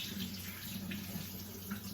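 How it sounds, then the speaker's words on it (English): Cold water runs steadily from a kitchen tap for rinsing, making a continuous, even splashing rush that stays close and unbroken throughout. "Let me give myself a cold water rinse."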